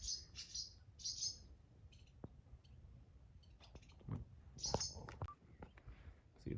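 Birds chirping in a carport, bursts of sharp tweets in quick runs that come and go between quieter moments, fairly faint, with a few small knocks and rustles.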